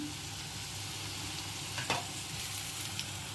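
Brinjal and mango curry cooks in a covered pan with a soft, steady sizzle and a brief louder crackle near the middle. It is faint and there is no talking.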